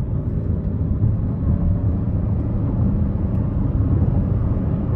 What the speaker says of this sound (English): We're gonna give it some throttle here.